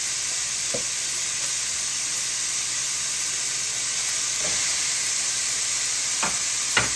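Hamburger patties fry in a hot pan with a loud, steady sizzle throughout, broken by a few brief scraping clicks.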